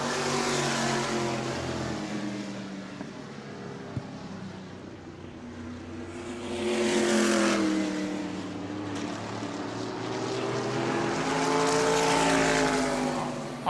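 Race cars at New Smyrna Speedway roar around the track, engines rising and falling in pitch as they pass, louder in two surges, with no voices.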